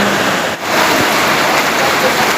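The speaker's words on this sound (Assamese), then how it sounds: "পূৰা বৰষুণ দি আছে" Heavy rain pours steadily during an outdoor school Saraswati Puja celebration, a dense, continuous wash of close, loud drumming on surfaces with a momentary dip partway through.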